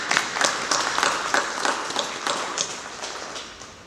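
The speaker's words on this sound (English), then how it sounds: "If we could all just clap for Exo." Applause from a business networking breakfast audience for a sponsor: a room of hands clapping with distinct sharp claps standing out, fading gradually toward the end.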